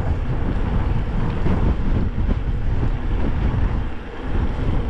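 Strong gusts buffet a microphone during an electric mountain bike ride around a reservoir, a dense continuous low rumble with uneven swells and no voices.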